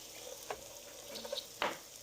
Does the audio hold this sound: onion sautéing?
yes